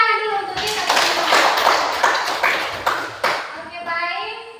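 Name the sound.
classroom applause, children clapping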